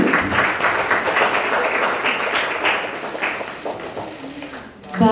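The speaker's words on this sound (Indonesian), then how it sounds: "kita berikan tepuk tangan sekali lagi" An audience applauds at a Perindo party event endorsing Khofifah and Emil Dardak for the 2024 East Java governor election. Dense, loud clapping fills the room steadily, then thins and fades toward the end.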